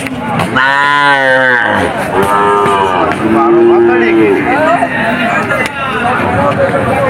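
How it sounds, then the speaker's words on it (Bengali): Cattle moo loudly, several long lowing calls one after another, amid crowd chatter and voices at the Churighata cattle market in Jessore, where cows and calves are gathered for sale. "খুব সুন্দর সুন্দর গরু হাটে আছে, দারুণ দারুণ বাছুর"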